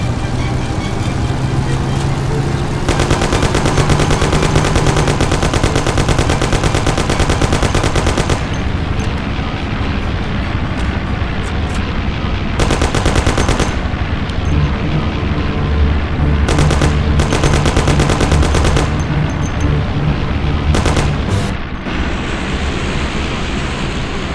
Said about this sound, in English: You and Sam shoot them!